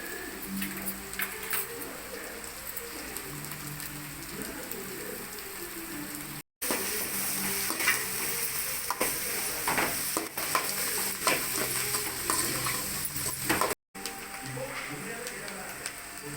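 Capsicum sautéing in a pan for rava kichdi, stirred steadily: continuous close scraping and sizzling with frequent spatula clatter, running throughout with a speaking voice at times.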